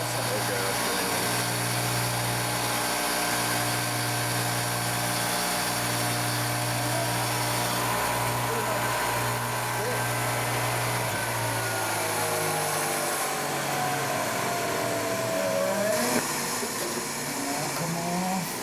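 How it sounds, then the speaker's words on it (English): A flywheel resurfacer grinds a clutch flywheel with a steady, loud whirring machine drone and high metallic hiss that shifts in pitch partway through, running continuously without pause. "It is a flywheel resurfacer."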